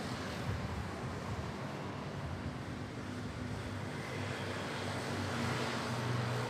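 A De Havilland Dash 8 turboprop rolling on runway 06 at Manila airport produces a steady, loud engine drone and broad roar that stays fairly constant and swells slightly toward the end.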